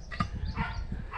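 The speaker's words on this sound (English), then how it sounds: "There's so many dogs around here." Dogs giving short yips and soft barks close by at a neighborhood where many dogs roam, a few quick vocal bursts over outdoor background.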